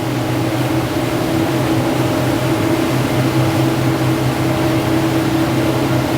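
Motorboat engines drone steadily while cruising at about 38 mph, with an even, continuous hum and rushing noise close by.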